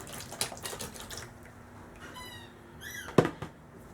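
Parts of a Crosman 760 airgun are rinsed with water, a soft running trickle and splashing with a few sharper drips and a single clunk near the end.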